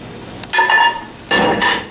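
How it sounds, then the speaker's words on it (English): Mushrooms dumped into a pan of cooked shrimp for a broken-spaghetti risotto: two separate loud bursts of sizzle and clatter, each fading away, with no talk. "I'm going to go ahead and just dump my mushrooms in there"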